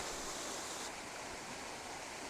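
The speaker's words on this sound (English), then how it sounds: "So I'm going to turn the camera around so you can see Grotto Falls." Grotto Falls, a waterfall on a hiking trail in the Smoky Mountains, gives off a steady, even rush of falling water that holds constant with no voices present.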